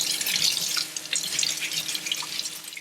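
A pear is scrubbed with a vegetable brush under a running tap, producing a steady close hiss of flowing water with light scratchy brushing, continuous throughout and with no talking.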